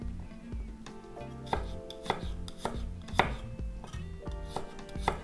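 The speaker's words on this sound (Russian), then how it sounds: "Несколько зубчиков чеснока. Просто нарежу на пластинки." A kitchen knife slices garlic cloves into thin slivers on a cutting board, giving a steady run of crisp, close chopping taps over quiet background music.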